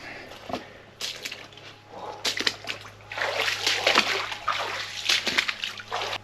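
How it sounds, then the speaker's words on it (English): Feet splash and slosh through water while wading in the karst landscape of Rammang Rammang, Sulawesi, with irregular close splashes over a low steady hum. "Now it looks like I'm gonna have to get my feet wet."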